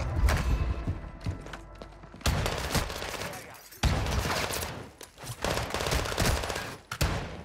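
A shotgun firing in a video game, with sharp, loud shots in irregular bursts broken by short gaps, plus mechanical clatter in between.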